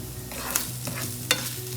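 Mushrooms frying in a pan until browned, a steady hiss of sizzling broken by a couple of sharp scraping clicks of a utensil stirring them.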